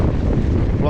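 Wind gusts steadily across a sailboat lying at anchor, a loud continuous buffeting roar with microphone rumble and no clear breaks.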